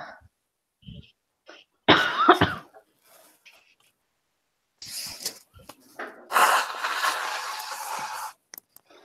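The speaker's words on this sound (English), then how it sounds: "just sneezed 6 times in a row." A burst of sneezes and sharp nasal exhalations, several in close succession, close and loud, with quiet gaps between them.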